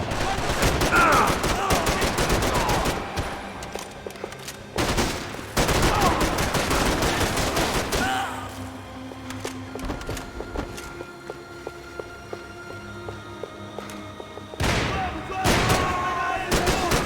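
Gunfire in the video game Max Payne 3 comes in dense, loud bursts of rapid shots, broken by short pauses and quieter stretches with scattered single shots and background game sounds.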